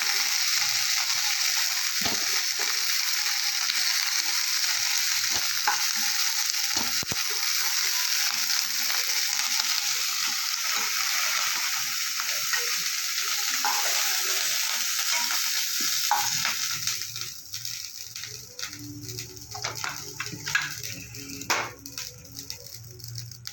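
Continuous sizzling of broccoli frying in oil, close up, with scraping stirring sounds and occasional clinks; the texture thins out toward the end.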